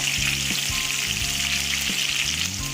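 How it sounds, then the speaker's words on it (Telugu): Sliced onion and green chillies fry with curry leaves in a pan, giving a steady, loud, close sizzle that runs without a break from start to finish, with no voices over it. "ఇప్పుడు ఇందులో కట్ చేసి పెట్టుకున్న ఆనియన్ ఫ్రై చేసి పచ్చిమిర్చి యాడ్ చేసుకొని ఫ్రై చేసుకోవాలి."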